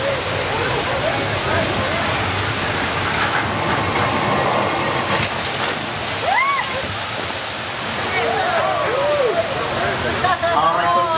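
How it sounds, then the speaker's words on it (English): Thousands of gallons of water released from tanks on a hill rush down as a flash flood effect at a Universal Studios Hollywood theme park ride, a loud continuous roaring wash with shrieks and voices over it. "There's the result of thousands of gallons of water being released in large tanks at the top of the hill."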